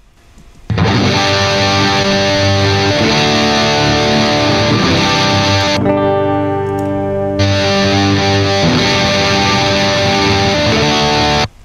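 Electric guitar run through the Pro Tools Eleven amp simulator on a heavy high-gain setting, playing loud, thick, sustained distorted chords continuously with one brief drop in texture midway.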